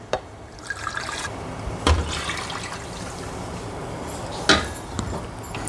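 Milk shaken in a mixer jar pours into a creamy broccoli soup, a steady liquid splash and trickle with a couple of sharper clinks, close and moderately loud with no talking.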